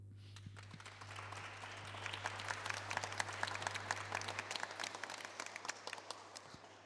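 Church audience applauding, a dense patter of many hands that swells and then thins out toward the end, heard alone without speech.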